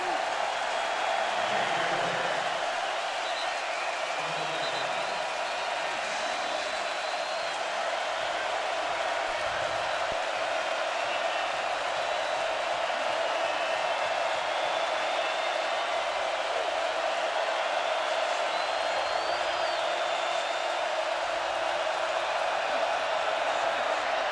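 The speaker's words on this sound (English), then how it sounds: "here comes this Rose Bowl crowd" The Rose Bowl stadium crowd roars steadily during a BYU at UCLA college football game on third down, a broad sustained distant wash of noise with no clear breaks.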